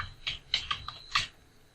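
Keys tapped on a computer keyboard while entering an email address, a short run of about six quiet, separate clicks in an otherwise still room.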